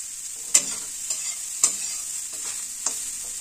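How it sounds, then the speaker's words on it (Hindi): Barhar flowers frying in a pan over medium-low heat, a steady soft sizzle with a few sharp stirring clicks of a utensil against the pan, no talking. "और इसको दो से तीन मिनट के लिए मीडियम लो आंच पे फ्राई कर लेंगे मतलब भून लेंगे"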